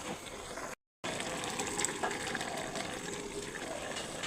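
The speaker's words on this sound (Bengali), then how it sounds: "সামান্য একটু পানি দিয়ে এর সাথে মিক্স করে নিচ্ছি" Water poured into a pot of mutton fat and jackfruit curry, a steady splashing, gushing stream that runs continuously apart from one brief cut near the start, close and fairly loud.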